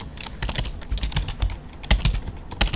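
Fingers tap out code on a computer keyboard in fast, uneven bursts of clicky keystrokes, close and fairly loud with no voices.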